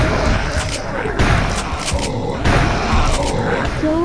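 In the Turok 2 PC remaster, a Soul Gate is blown apart with loud, continuous rumbling blasts and crackling debris. The destruction roars at full volume throughout with a dense, layered texture of game effects.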